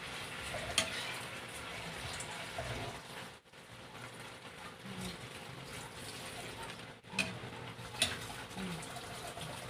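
Igado, a dish of pork and liver, is mixed and fried in a pan, giving a steady low sizzle under soft stirring and scraping, with a few sharp clinks of the utensil against the pan.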